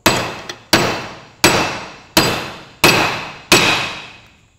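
Hammer striking metal while fitting a front wheel bearing on a Massey Ferguson 65 tractor, six sharp ringing clangs at a steady, unhurried pace, each decaying before the next, close and loud.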